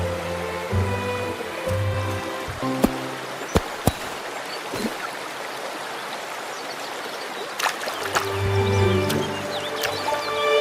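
A river stream in an animated scene flows steadily with a soft rushing wash, under light music and a few sharp clicks.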